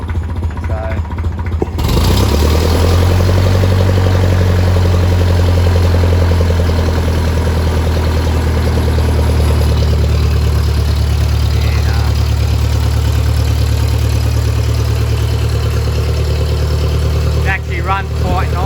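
A Ferguson 35 tractor engine starts and runs loud and close, a steady low throbbing diesel rumble holding an even pace for the length, with a faint voice near the end.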